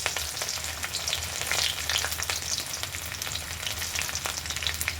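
Fenugreek seeds and garlic fry in hot oil for a date pickle, giving a steady, fairly quiet sizzle and crackle with occasional stirring scrapes and no voices.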